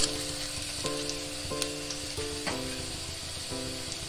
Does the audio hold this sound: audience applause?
no